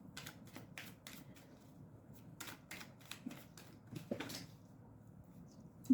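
Tarot cards being shuffled by hand, a quick run of soft, crisp riffling taps and flicks at close range, fairly quiet and uneven in rhythm.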